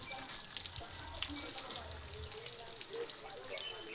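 Water runs and trickles quietly in a continuous, faint flow with small splashy drips, and low voices murmur over it.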